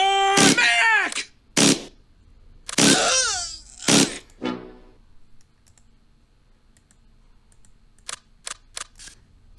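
Bursts of PPSh submachine gun fire in a World War II-style video game, short rapid rips of automatic fire interleaved with a few clicks and faint voices, loud and close near the start and then sparse distant shots.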